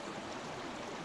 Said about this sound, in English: I hope you can hear me quite well with all this water noise here.